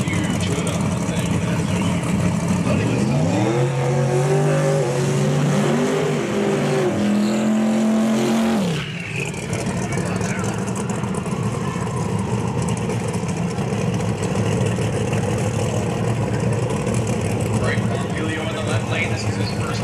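Ford Mustang GT drag car at a Toronto drag strip, a loud engine howling through rising gear-change sweeps for about nine seconds before the roar drops away into a steady distant rumble, with an announcer talking over it.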